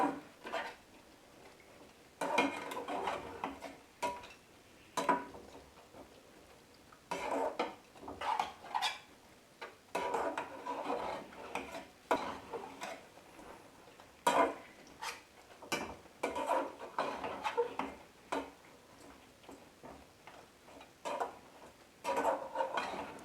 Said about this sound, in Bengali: এটা আমি ভালোভাবে নেড়ে ছেড়ে দিচ্ছি। এটা ক্রমাগত নাড়তে হবে,